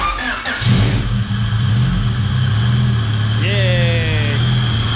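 A Honda B16B engine in an EK chassis cranks over and catches, settling into a loud steady idle before revving up twice; voices are heard nearby over the engine.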